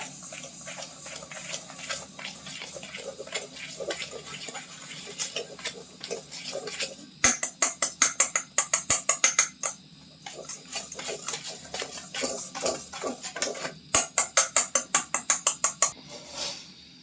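Sugar, butter and a little oil being mixed in a bowl for an eggless chocolate cake, a close, continuous scraping stir broken by two bursts of quick, rhythmic metallic beating against the bowl.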